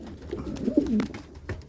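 Soft, low cooing of French pure-breed meat pigeons in a farm loft, a few brief murmuring coos close by with faint background noise.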